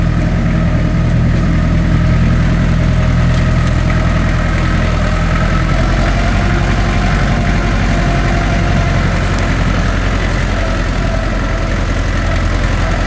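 A Mahindra Yuvo Tech Plus 585 4WD tractor engine runs near and loud, a steady low diesel rumble with constant vibration throughout, no talk.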